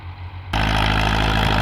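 Ford tractor pulling a disc plow through a corn field, its engine droning loud and steady after a sudden start, heavy low rumble close by.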